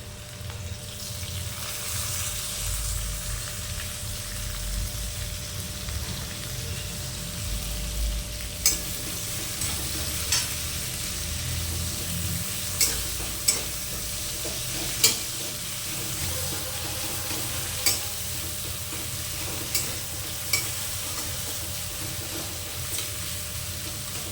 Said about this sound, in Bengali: এবার এর মধ্যে দিয়ে দেব চেরা পেঁয়াজটা।